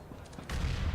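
Rifle fire and a grenade blast in a Counter-Strike: Global Offensive match on the Cobblestone map, with a dense burst of gunfire that swells into a loud, sustained roar of shooting and explosion in the second half.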